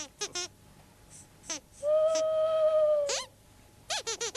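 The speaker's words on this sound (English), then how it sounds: "That's just an owl, Sweep." An owl hooting at night in a Sooty puppet story, one clear, sustained hoot standing alone in the middle, with brief bursts of voices before and after it.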